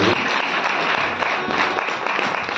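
An audience at a Bhagavad katha religious gathering applauds, a dense, steady wash of many hands clapping that continues unbroken throughout.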